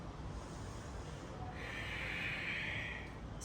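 Steady, noisy breathing held through a side angle pose in a hatha flow, close and continuous over a constant hiss, a sharper nasal exhale swelling in the second half, no talking.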